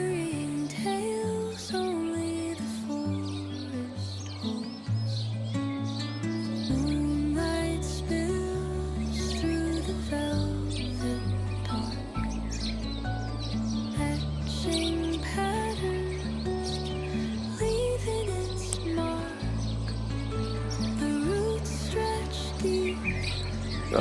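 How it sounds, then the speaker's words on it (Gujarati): Sparrows perched in a babul tree chirp faintly and steadily at a distance, their small tweets scattered over a constant low background hum. "ને જો ચકલા અહીંયા બેઠા છે બાવેડામાં."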